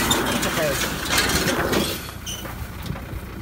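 A straw baler runs on its first trial, a loud, close, continuous clatter of pulleys, gears and ratcheting parts that eases slightly partway through.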